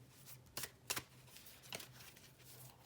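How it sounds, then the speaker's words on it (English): Oracle cards are shuffled by hand in a quiet room, with a few crisp riffling bursts over a faint steady hum. "I'm just going to shuffle until it's the right one."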